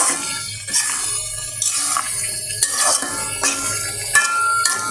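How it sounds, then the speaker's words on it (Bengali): Meat being sautéed and stirred in a pan for khichuri, with a bright hiss of frying broken by repeated scraping strokes and light clinks of a spatula against the metal. "মাংসটা কষানো হচ্ছে।"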